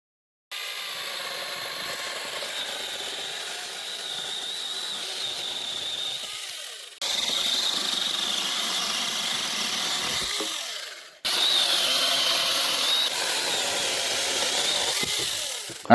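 A battery-powered mini chainsaw with a 6-inch bar runs in three loud bursts, each a steady high electric whine that stops abruptly between runs, with slight dips in pitch as it bogs.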